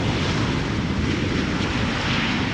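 A KLM Boeing 777-200 airliner arriving at Schiphol from New York JFK, a steady loud engine roar with broad rushing noise throughout.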